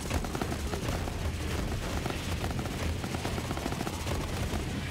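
Rapid, dense gunfire from a regular pistol in the video game Borderlands 3 fills the stretch with loud, continuous shots and booming low-end rumble, with no talking over it.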